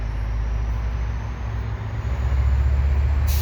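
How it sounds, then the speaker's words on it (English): An EXO commuter train with Bombardier multi-level cars and a 1990s F59PHi locomotive passes westbound in winter, a loud, steady low rumble and rolling roar that swells toward the end. "we got the EXO commuter train heading west towards Vaudreuil"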